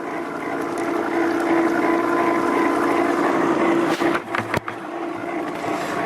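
A GW25 spiral concentrator machine runs on its own with a steady motor drone and a watery hum, heard close and continuous, with a few knocks and clatters toward the end.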